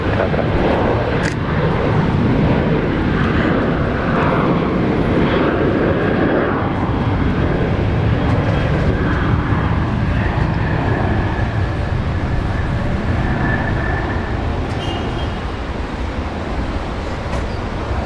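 A Qantas airliner departs Brisbane for Sydney, a loud sustained jet engine roar filling the air for the whole stretch, broad and steady with a slight fade near the end, no voices.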